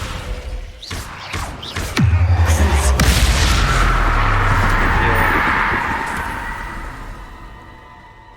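In Hogwarts Legacy, a Descendo spell slams down with a few sharp knocks, then a heavy booming impact whose loud rumble rolls on for several seconds before slowly fading.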